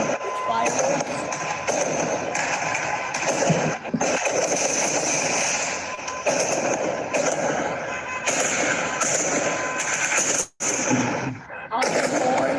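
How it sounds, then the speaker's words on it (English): Continuous crackling bursts and booming pops of celebratory fireworks in Jerusalem fill the air, with a crowd talking and shouting underneath, loud and dense throughout. "they're setting off fireworks in Jerusalem, celebrating fireworks"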